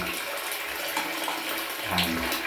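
Steady broadband rush of water pouring into a tank fitted with an automatic water-level shutoff, continuous and fairly close, with a slight shift in tone near the end.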